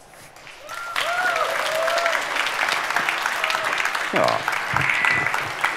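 Audience applause at an award ceremony for a green product fashion award, a broad wash of clapping that swells after a second and carries steadily, with a brief voice and some whistling or cheering over it.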